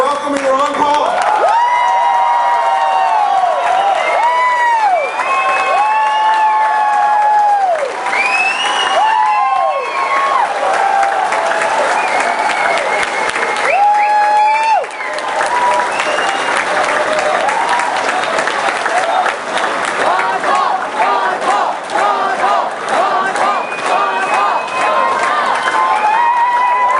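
A large rally crowd at a veterans event in Spartanburg, South Carolina, claps and cheers loudly and continuously to welcome Ron Paul, with whistles and shouts rising over the sustained applause.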